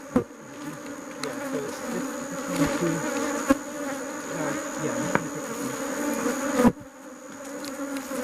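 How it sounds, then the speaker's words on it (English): Dense swarm of honey bees buzzing steadily around an opened hive during a honey harvest, a loud continuous drone with a few sharp knocks and clicks from handling the frames. "we've got so many bees right here"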